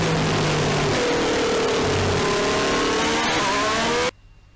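A racing video game car engine, captured twice so two overlapping engine tones run together, revs loud and steady with rising and falling pitch, then cuts off abruptly near the end.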